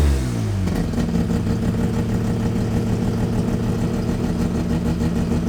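A built first-generation Mazda RX-7 rotary engine revs sharply, then settles into a loud, close, buzzing idle with a steady throbbing drone and no talking.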